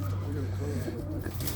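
Pigeons coo at an old-fashioned bird show, a steady low cooing drone from many birds filling the hall, with people talking over it.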